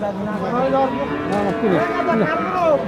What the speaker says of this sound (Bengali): অস্ট্রেলিয়া অস্ট্রেলিয়ার বাছুর